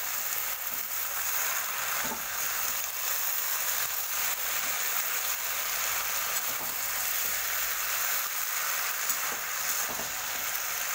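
Malabar spinach stirred in a frying pan, a constant close sizzle broken by soft periodic scrapes and clinks of the utensil against the pan, with no talking.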